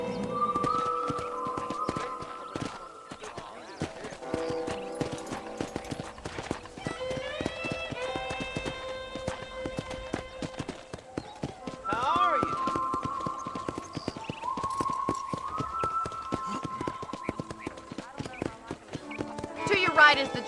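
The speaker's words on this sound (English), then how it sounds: "let's see if you can still ride a horse" Horse hooves clip-clop in a steady rhythmic gait while riding around a ranch in the video game Red Dead Redemption, with game character dialogue and speech running over the hoofbeats throughout.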